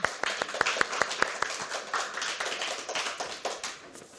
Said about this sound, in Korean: 환영합니다. 박수로 한번.